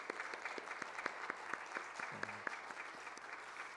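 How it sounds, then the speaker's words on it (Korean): A church congregation gives the Hosanna choir a steady, lively round of applause, with dense clapping that fills the room for several seconds. "다시 한번 우리 호산나 찬양대에게 큰 박수."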